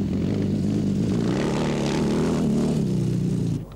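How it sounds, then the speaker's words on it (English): Heavy enduro motorbike engine of Hubert Auriol at the 1984 Dakar Rally, bucking over rocky boulder terrain; a steady, loud, droning engine roar holds throughout and drops off abruptly at the very end. "Hubert Auriol is spectacular, the heavy enduro bike bucking its way among the boulders."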